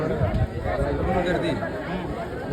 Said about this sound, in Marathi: तुम्हाला दाखवतो की ॲक्च्युली गर्दी केवढी आहे.